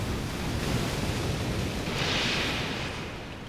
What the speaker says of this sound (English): I hear the thundering waves from here.